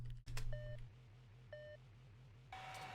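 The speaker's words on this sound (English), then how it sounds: "The buzzer signals the start of the match" A buzzer signalling the start of a robot combat match sounds in short repeated electronic beeps over a steady low mechanical hum, ending in a longer higher tone.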